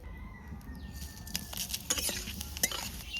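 Whole cumin seeds, dried red chili and bay leaf sizzle in hot oil for a tempering in a village-style Bengali kitchen, a steady crackling hiss with brief stirring clinks and sharper pops toward the end, close and without talk.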